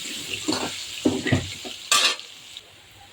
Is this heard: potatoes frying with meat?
yes